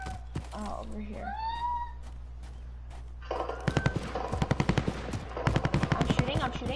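Gunfire in the video game Call of Duty Warzone, rapid bursts of automatic shots stacking up in the second half over game ambience and a steady low hum, with a voice talking at the start.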